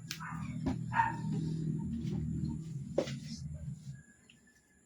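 A dog barking, a few sharp, separated barks over several seconds against a low background rumble, not very loud and somewhat distant.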